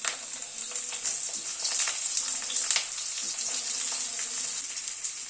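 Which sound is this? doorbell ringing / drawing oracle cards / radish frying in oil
radish frying in oil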